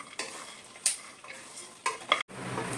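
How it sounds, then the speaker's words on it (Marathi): Pumpkin seeds and pistachios roast in a pan, with a few scattered scrapes and light clinks from stirring over a faint dry sizzle, close and brief. "आपण पम्पकिन सीड्स आणि पिस्ता टाकला आहे आपण त्याच्यामध्ये चांगले भाजून घेऊया"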